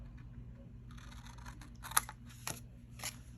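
Scissors cut along the line of a paper tag template, a few crisp snips and short rustles at close range, with one sharper click near the middle and quiet background otherwise.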